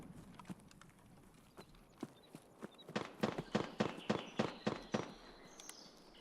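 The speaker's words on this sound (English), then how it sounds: "Kind of sounds like a pistol or something." Distant pistol gunshots ring out in Escape From Tarkov, a run of sharp cracks that starts sparse and then fires in a quick, fairly regular volley before fading, all faint and far off.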